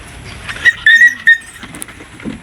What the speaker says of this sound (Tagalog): Sawayin mo muna si Tuta